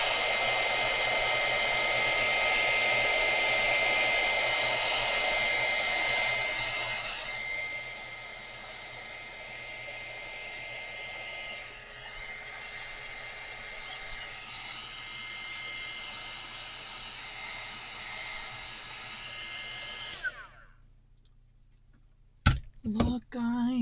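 A heat gun blows steadily during mixed media crafting, a loud whooshing motor hiss for about twenty seconds that eases slightly midway, then cuts off, followed by faint handling knocks.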